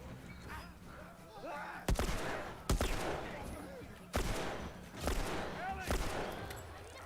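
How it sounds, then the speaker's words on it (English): Repeated gunshots in The Last of Us, a handful of sharp loud bursts spaced unevenly over steady game ambience, with someone talking between and under them. "I'm wasting so many bullets because I believe the bullets are endless right here"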